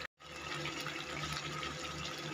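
Water is poured into masala gravy in a pan for duck egg biryani, a soft continuous splashing and liquid pouring sound, faint and steady for about two seconds after a brief silence.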